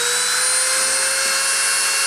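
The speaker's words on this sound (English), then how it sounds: "I'm going to turn the spindle on and start the deposition" The spindle of a deposition printer runs loud and close, a steady high-pitched motor whine with a constant electric tone that holds unchanged for the whole stretch.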